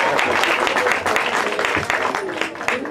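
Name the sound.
applause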